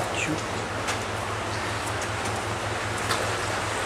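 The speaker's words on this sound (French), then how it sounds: "Là, je pompe." A winemaking pump moves pressed wine juice with a steady, rapid mechanical pulsing throb under a broad rushing noise, continuous and fairly loud throughout.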